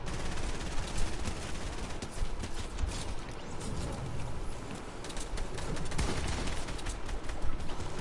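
An assault rifle fires in a video game, producing a dense, continuous stream of gunfire that stays loud and harsh from start to finish.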